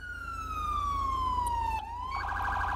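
A loud electronic police siren in GTA 5/FiveM wails in a long falling sweep, then abruptly switches to a rising tone, with a steady low hum underneath.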